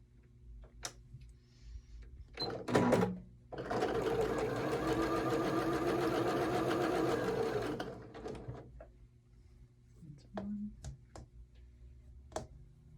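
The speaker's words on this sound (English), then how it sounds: "We're going to go ahead and sew these together." A sewing machine stitches quilt block pieces together in one steady, loud run of about four seconds, framed by a few short clicks and handling noises before and after.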